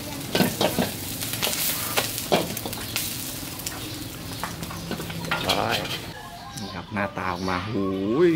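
Red ant egg omelette frying in oil in a pan, a steady close sizzle with stirring scrapes and clinks throughout, and a voice talking near the end.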